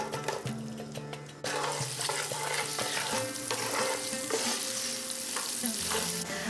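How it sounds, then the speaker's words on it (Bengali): Chopped onions fry in a large pot with a continuous crackling sizzle, as a spoon stirs and scrapes against the metal from start to finish, loud and close. "দু থেকে আড়াই মিনিট পেঁয়াজটাকে ভেজে নিয়েছি, বেশ লাল লাল করে ভাজা হয়ে গিয়েছে"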